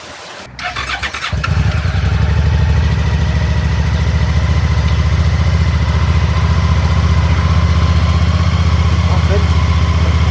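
A vehicle engine cranks and fires on a cold morning, then settles into a steady, loud idle that runs close by and alone for the rest of the stretch.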